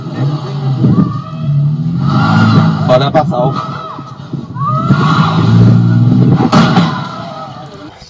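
A car engine revs hard in two rising surges, each swelling, peaking and then dropping back, during a car-ramming incident. Someone talks over and between the revs.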